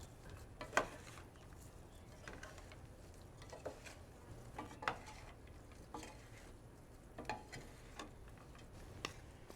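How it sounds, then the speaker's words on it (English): Brussels sprouts with bacon and craisins are tossed together in a bowl, making a faint, steady series of soft clicks and light scrapes of a utensil against the bowl, with no talking. "Now I'm just gonna toss them together."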